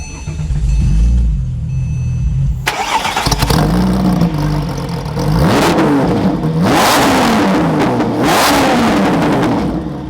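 A faint hum, then a Porsche 911 GT2 (992, manual) engine cranks and fires up loudly, followed by a few sharp revs that rise and fall, close and roaring.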